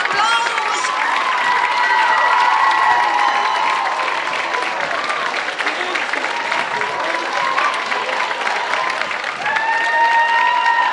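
An audience at a high school PlayBox show claps for the 12th-grade class being called to the stage, with sustained loud applause mixed with cheers and a few shouts from the crowd throughout.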